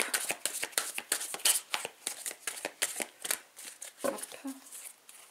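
Tarot cards being shuffled and cut, a close run of quick riffling flicks and slaps in an uneven rhythm, with a few brief vocal sounds near the end.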